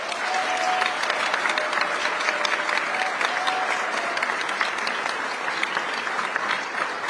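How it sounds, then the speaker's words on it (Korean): Audience of overseas Koreans at a San Francisco reception applauding the president, with steady, dense clapping that holds loud and even throughout, with no talk over it. "이재명 대통령께 뜨거운 응원의 박수 부탁드리겠습니다."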